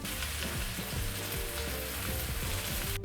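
Greens sizzling in a hot pan with garlic, a steady close frying hiss with small scrapes and stirring knocks throughout.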